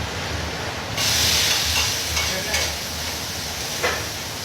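Food fries in a pan with a steady, close sizzle that jumps louder after a second and keeps crackling and hissing throughout.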